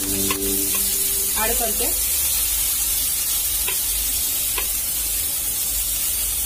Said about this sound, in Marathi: फोडणी छान पैकी झाली, आता मी याच्यामध्ये कढीपत्ता